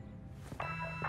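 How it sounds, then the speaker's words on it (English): A cartoon telephone in a children's animated Bob the Builder episode rings with a bright electronic buzzing tone, starting about midway and repeating near the end over a low background hum. "Oh, not the phone again."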